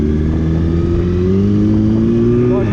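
A vehicle revs hard while overtaking on a road. Its loud engine tones climb steadily in pitch as it accelerates close by.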